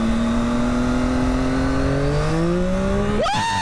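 A Yamaha MT-09 motorcycle accelerates hard on a test ride, its engine note rising steadily through the gears, loud and continuous, then jumping sharply in pitch near the end with an upshift or fresh burst of revs.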